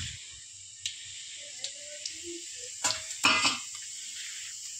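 Whole cumin, cloves, star anise, peppercorns, cinnamon and a bay leaf are tempered in hot oil for chicken pulao, giving a steady, soft sizzling hiss. A few brief clinks and stirring knocks of a utensil against the pan come through it.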